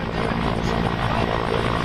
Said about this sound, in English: Mi-17 helicopter is showing the Garud commandos slithering from the helicopter.